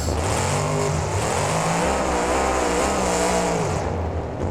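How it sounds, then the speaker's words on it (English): Loud, sustained revving from the Identity Theft monster truck in BeamNG as it reverses and spins in Allegiant Stadium, pitch climbing and dropping over a few seconds before easing off near the end. "Puts the truck up in reverse, lands it on that ramp, spins it around"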